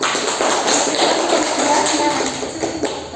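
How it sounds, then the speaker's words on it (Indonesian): A classroom group of students gives a round of applause, a dense, steady patter of many hands clapping that fades slightly toward the end. "kita beri aplaus dulu untuk kelompok 2"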